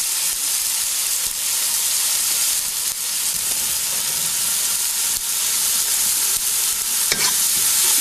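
Onions cook in a pot with a splash of water, giving a continuous loud hiss and bubbling sizzle with occasional faint stirring clinks, no voices.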